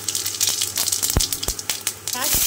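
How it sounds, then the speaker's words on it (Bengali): Whole garam masala, cumin seeds, cardamom, cinnamon and cloves sizzle in hot oil, a bright continuous frying hiss broken by sharp pops and crackles, close and loud. "ওই তেলের মধ্যে এখানে গোটা গরম মশলা আর গোটা জিরে, এলাচ, দালচিনি, লবঙ্গ আর গোটা জিরে দিয়ে দিলাম"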